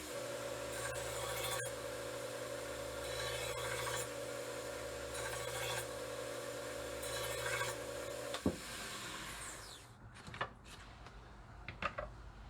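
A knife being sharpened on a honing rod, heard as steady rasping strokes over a low hum and faint background tones, ending with a few sharp metallic clicks.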